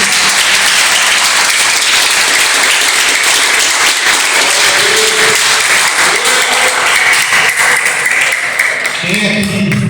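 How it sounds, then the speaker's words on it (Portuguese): Strong, continuous applause fills a church as the congregation claps together, with voices and faint tones rising near the end. "Eu queria pedir uma salva de palmas para Deus."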